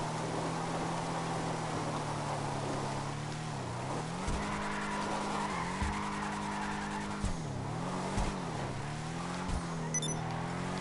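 A muscle car in GTA Online does donuts on a lawn, its engine droning steadily with repeated swells and dips in pitch as the tires skid and squeal, loud and continuous without any talk.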